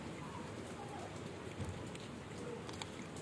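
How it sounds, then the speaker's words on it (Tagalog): Rain falls steadily on the evening of a cat's feeding, a constant soft hiss with scattered drops tapping nearby, fairly faint and unbroken, with no voices. "Umuulan kasi dito ngayon guys eh."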